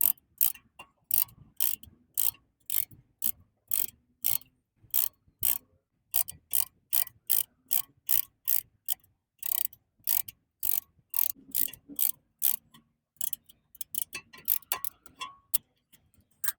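Brake caliper piston compressor tool being cranked on a Volkswagen Jetta, giving a long series of sharp, evenly spaced ratcheting clicks, loud and close, with a few short pauses.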